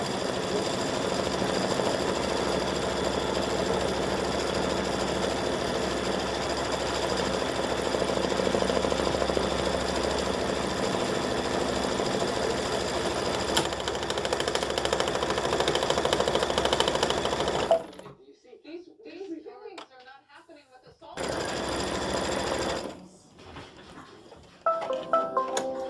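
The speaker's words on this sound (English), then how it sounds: "color number 2 is going to stitch the placement line for the hat material" A home embroidery machine stitches a placement line for hat fabric on a gnome applique, a fast steady mechanical chatter running close and continuous for many seconds before stopping, then brief restarts.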